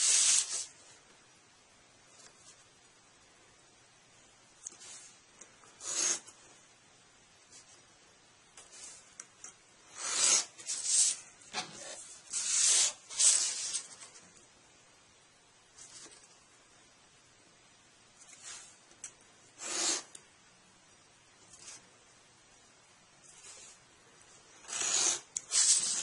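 A knife cuts and scores parts for a 1:200 scale model airport control tower, producing short sharp scratching strokes in irregular bursts with quiet gaps between them.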